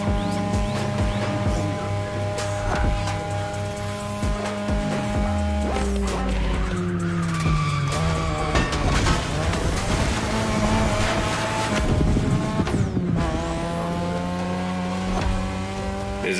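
A 3rd Gen 2002 Mazda RX-7 with a rotary engine racing in The Crew Motorfest, loud continuous high-revving engine drone with rising and falling pitch through gear shifts, plus thuds and scrapes of impacts.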